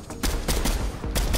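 Bursts of automatic gunfire from a machine gun in Fortnite, several sharp loud shots in uneven clusters, close and alone.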